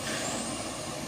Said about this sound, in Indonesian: nampaknya truk tangki mundur perlahan bosku